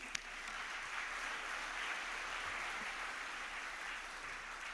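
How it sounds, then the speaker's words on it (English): Soft, distant applause fills a large hall at a corporate anniversary event, an even wash of clapping with no speech, quiet and steady throughout. "Please give yourselves a heartfelt round of applause, please."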